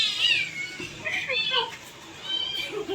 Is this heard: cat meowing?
yes